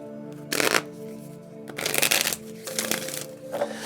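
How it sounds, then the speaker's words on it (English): Tarot-style moon cards are shuffled in several quick riffling bursts, close and clear, separated by short pauses with a faint steady hum behind. "let's do some moon cards real quick."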